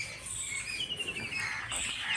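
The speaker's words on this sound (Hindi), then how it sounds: "देखो चिड़िया कितनी आवाज कर रही है।" Small birds in a tree in a village setting chirp and tweet in short, high, overlapping calls, fairly faint over a soft outdoor background.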